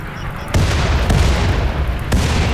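Gunfire from the colony-building video game Rimworld: a few heavy, booming shots in close succession over a dense rumbling background.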